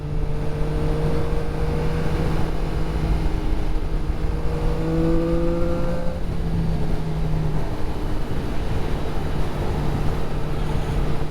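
A CF Moto 675SS sport bike engine runs steadily at low RPM, a continuous droning hum with a few rising whines as revs shift briefly, loud and close, with no voices.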